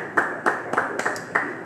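Scattered handclaps from a small audience at a church Bible study, about five separate sharp claps spaced irregularly rather than full sustained applause, fairly close and alone without talk.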